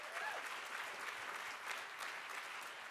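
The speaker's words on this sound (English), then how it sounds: "Let's give Maria a round of applause." Applause from a gala audience at a civil rights organization's 50th anniversary celebration, a dense steady wash of many clapping hands sustained evenly throughout, with no talk over it.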